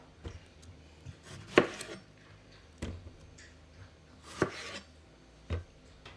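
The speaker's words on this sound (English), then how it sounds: "I'm just gonna chop them in half because I am putting these in a blender" A knife chops Roma tomatoes in half on a cutting board, with a handful of sharp, close taps and thuds spaced unevenly over a quiet kitchen background.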